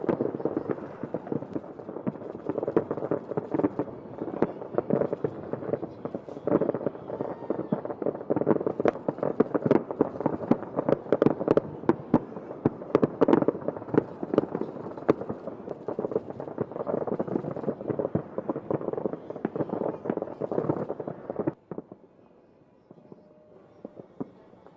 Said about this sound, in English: France too celebrated New Year 2026 with spectacular display of fireworks